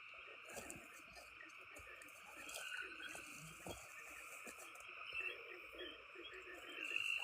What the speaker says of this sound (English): Listen to all the frogs.